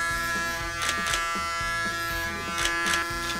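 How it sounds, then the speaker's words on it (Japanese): Electric hair clippers buzz steadily while shaving a head, a close mechanical hum with short louder bursts as the blades pass through hair. "まずはバリカンで身支度してから"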